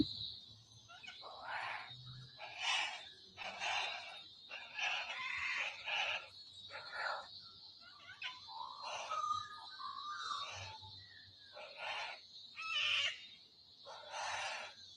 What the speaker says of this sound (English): So these are two tawny frogmouths that were just right above mine and my partner's head